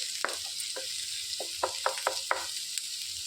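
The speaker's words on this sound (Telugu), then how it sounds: "ఉల్లిపాయ అనేది మెత్తపడే వరకు వేయించుకోవాలి. ఈ నూనెలో ఈ ఉల్లిపాయలు వేగటం వలన ఉల్లిపాయ అనేది మంచి టేస్టీగా మారిద్దండి" Sliced onions fry in oil in a pan for a Telugu onion chutney, a steady sizzle running throughout with a few soft clicks of stirring on top.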